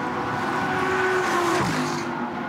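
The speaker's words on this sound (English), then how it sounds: "you can hear the cars going into there almost totally flat out" Lamborghini Super Trofeo race cars going almost flat out through Eau Rouge at Spa-Francorchamps, a loud sustained engine howl with a sharp pitch drop partway through as a car passes, no talk.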